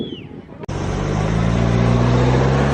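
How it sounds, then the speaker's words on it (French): Heavy traffic on a busy road in Malta, with a taxi among the many cars, sets up a loud, steady rumble of engines close by after a short quieter lead-in, continuous with no clear pass-bys standing out. "il y a plein de voitures, vraiment plein de voitures"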